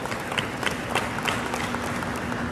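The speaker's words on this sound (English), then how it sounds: "You can clap, that's okay." Light, scattered clapping from a small audience at an alumni awards and athletic hall of fame dinner, a few distinct claps over a low room hum, fairly faint and brief.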